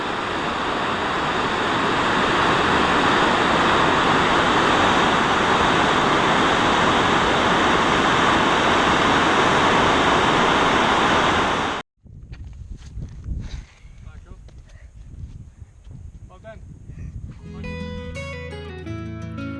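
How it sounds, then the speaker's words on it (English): A loud, steady roar of the Orange River plunging down a 56-meter waterfall at low water fills most of the stretch, then cuts off abruptly to quieter sounds and a few soft musical tones. "the Orange River cascades down a 56-meter high waterfall. Even with the water levels quite low, the noise was incredible"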